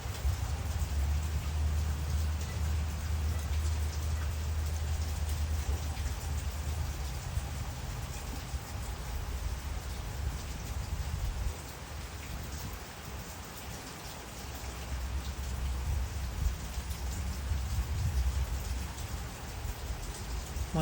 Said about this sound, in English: I just love the raindrops and the sound of the rain.